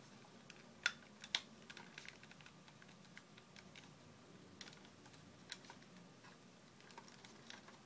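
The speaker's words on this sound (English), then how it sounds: "the joints, they click everywhere" Small plastic joints of a Bandai VB-6 Konig Monster toy figure clicking, a couple of sharp distinct clicks near the start followed by scattered faint ticks over a quiet background.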